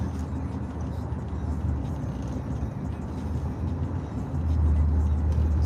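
A car rolls along the road with a steady low engine and road rumble heard from inside, swelling slightly louder near the end.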